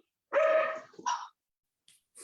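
A single dog gives one loud, drawn-out bark, followed by a shorter huffing yelp and then a couple of brief quieter sounds, close by in an otherwise quiet indoor room.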